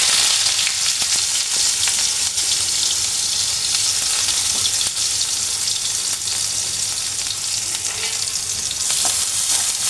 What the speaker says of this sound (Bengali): আমি পেঁয়াজটা ভেজে নেব তেলের মধ্যে